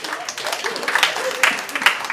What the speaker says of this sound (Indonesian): terima kasih tepuk tangan yang sangat keras lagi